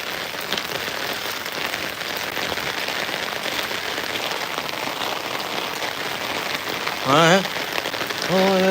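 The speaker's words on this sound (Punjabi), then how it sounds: "ਦੇਖੋ ਬਾਈ ਜੀ ਮੀਂਹ ਪੈ ਰਿਹਾ ਹੈ" Steady rain falls and patters on surfaces for several seconds, a dense constant hiss, with a brief voice near the end.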